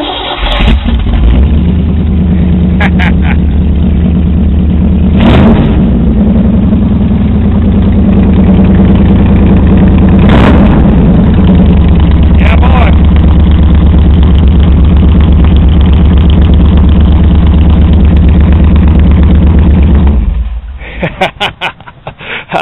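A hot rod car engine cranks and fires up loud and close, then settles into a deep, steady idle with a couple of brief revs, running for about twenty seconds before shutting off.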